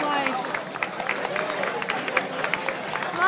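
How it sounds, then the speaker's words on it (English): Audience applause for Bill at a gathering, a steady wash of clapping from a crowd with voices mixed in throughout. "They're clapping at you, Bill."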